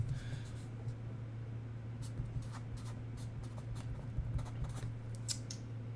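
A dry erase marker scratching across a board in short squeaky strokes, fairly faint over a steady low electrical hum.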